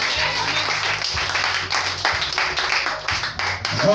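A church congregation clapping together in a steady, fairly loud rhythm for about four seconds, with faint voices mixed into the applause.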